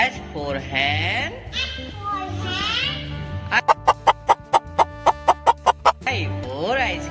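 A hen clucks in a quick, even run of about a dozen short, sharp clucks, with high, lively children's voices before and after over a light musical backing.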